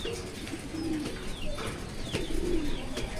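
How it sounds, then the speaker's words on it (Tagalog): Pigeons coo in a backyard loft of young racing birds, soft repeated low throaty calls rising and falling across the clip alongside faint chirps and steady background noise. "Check natin yung mga ibon natin doon."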